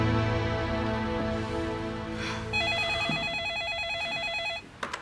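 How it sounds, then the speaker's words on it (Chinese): A telephone rings in an office during a Chinese drama scene, a warbling electronic ringtone of repeating tones over about two seconds, preceded by a sustained tonal background and ending abruptly. "顾朝阳，你接你的电话。"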